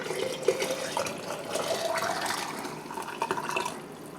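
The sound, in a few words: bone broth simmering in a pot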